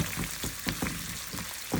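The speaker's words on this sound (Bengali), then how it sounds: "এই যে এটা একটু ভাজা ভাজা হোক" Garlic frying in a pan, a quiet sizzle with a few soft rhythmic scrapes or pops across a brief moment, close and unaccompanied by speech.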